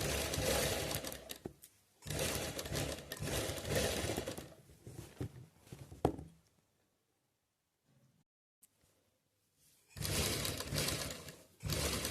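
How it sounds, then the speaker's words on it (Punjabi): A sewing machine stitches cloth for homemade slippers in close, loud bursts of rapid whirring, separated by quiet pauses with faint handling sounds. "ਹੁਣ ਆਪਾਂ ਇਹ ਤੇ ਸਲਾਈ ਕਰਨੀ ਆ"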